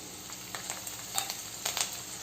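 Green chillies frying in hot oil in a pan give a steady, faint sizzle, with a few soft crackles and stirring clinks scattered across a couple of seconds and no voices.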